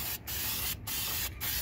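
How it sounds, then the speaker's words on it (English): Silver Krylon High Heat spray paint sprayed onto Dayton rims in three short, evenly spaced hissing bursts, fairly close and with no talking. "I think this silver Krylon High Heat Paint actually looks better than the Rust-Oleum stuff I was using."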